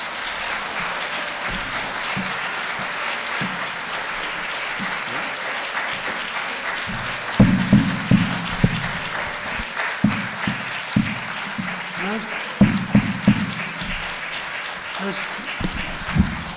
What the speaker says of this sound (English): Let's try to keep the applause down